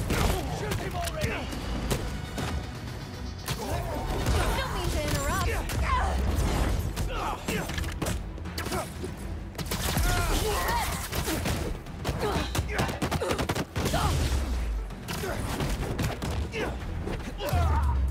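Turret gunfire in the Marvel's Spider-Man 2 video game, a dense stream of rapid shots and booms with crashes and mechanical clatter, mixed under shouted game dialogue and music.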